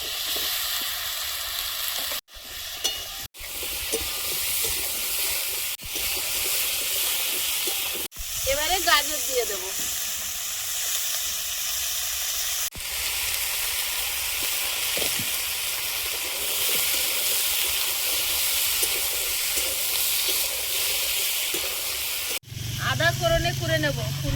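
Potatoes frying in hot oil with turmeric before cauliflower goes in, a steady close sizzle and hiss running throughout, with someone talking over it and brief stirring breaks.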